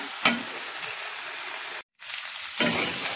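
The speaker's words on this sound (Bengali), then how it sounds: "বাদাম জিরে পেঁয়াজ রসুন ভালোভাবে কষিয়ে নিলে রান্নাটাও ভালো হবে" A spice paste of nuts, cumin, onion and garlic, cooked for boal fish bhuna with coriander, fries with a loud, steady sizzle. Spatula scrapes come at the start and near the end, and the sound breaks off for a moment.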